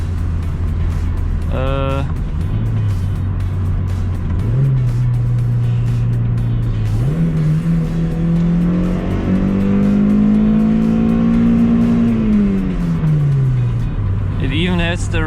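A Toyota MR-S (MR2 Spyder) fitted with a JDM TRD ECU revs repeatedly, the engine note climbing in steps and holding near the rev limiter before dropping back, loud and close with a brief burst of voice-like sound at the start.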